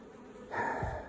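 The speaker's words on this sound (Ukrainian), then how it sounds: "Ще бджола літає, блукає" A faint buzzing of bees around beehives and queen-rearing nucleus boxes, with a brief louder burst of buzzing passing close midway against a quiet background.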